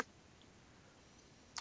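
A computer mouse clicks on a column heading, one quick click at the start and another crisp click near the end, faint against quiet room noise with no talking.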